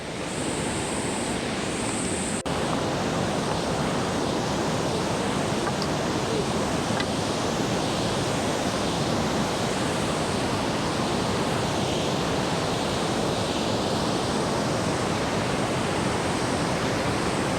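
Pushpavati river flowing from the Tipran glacier in the Himalayas, Valley of Flowers, a steady loud rush of glacial water that fills the whole clip without letup, with no voices.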